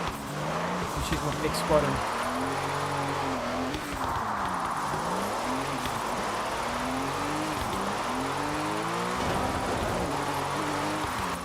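Car drifting under handbrake in the racing game Forza Horizon 6, engine revving steadily with tire squeal rising and falling through repeated slides, continuous and close, while someone talks over it.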